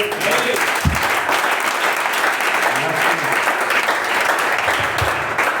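A church congregation applauds together, a dense, steady wash of clapping that holds loud and continuous throughout.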